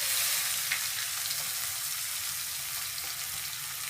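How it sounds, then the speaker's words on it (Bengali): Chopped onion hits hot oil with whole garam masala, bay leaf and cumin, giving a loud, dense, continuous sizzle that fades gradually, with a faint stir or clink. "এবারে এর মধ্যে দেবো পেঁয়াজটা"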